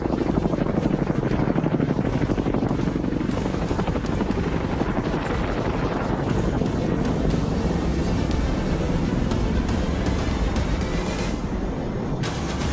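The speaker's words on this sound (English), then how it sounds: "NDP are 2 H-225M medium-lift helicopters from 125 Squadron." Two H-225M medium-lift helicopters from 125 Squadron fly past at a national day parade, a loud, steady rotor roar with dense low thudding and wind buffeting throughout, no voices.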